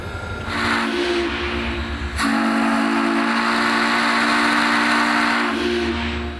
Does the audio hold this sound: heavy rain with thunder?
no